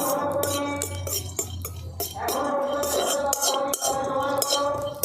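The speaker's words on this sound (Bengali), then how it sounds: "এই শুকনো কড়ার মধ্যে আমি একটু চালমগজগুলোকে ভেজে নেব" Melon seeds dry-roasting in a dry wok for motichoor laddu are stirred, giving repeated metallic clinks and scrapes of a spatula against the pan in an uneven, continuous rhythm, close by with no talk.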